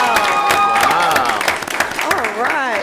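Supporters at a school board meeting clap and cheer in a bright burst of applause, while a person talks clearly over the noise.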